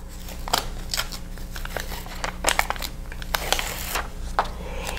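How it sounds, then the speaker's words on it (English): Paper backing peeled off fusible webbing on a heart appliqué for a quilted table runner, giving close, steady crinkling and tearing rustles with a few sharper crackles, no talking. "So you need to take off your paper backing"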